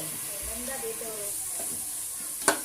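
Spice paste with turmeric and chilli powder is stirred in a frying pan for mutton biryani, a soft close sizzle with scraping strokes and a sharp clink near the end, under a voice speaking.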